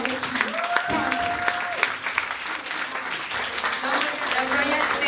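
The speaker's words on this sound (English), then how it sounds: "a very big round of applause for the work of the Joint Action Group for Gender Equality" An audience at the Aiyoh... Wat Lah?! Awards 2014 ceremony gives a big round of applause for the Joint Action Group for Gender Equality, with loud, sustained clapping throughout and a brief voice or tone heard early on.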